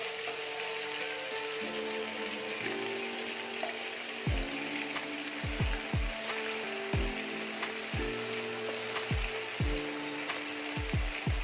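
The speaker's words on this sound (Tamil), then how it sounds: "இது அப்படியே ஃப்ரை ஆகும்." Prawns frying in a pan, a soft continuous sizzle with a few sharp metallic scrapes or clinks of a ladle, fairly quiet and without speech.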